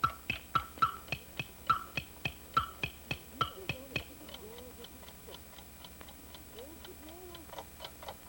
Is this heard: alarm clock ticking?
yes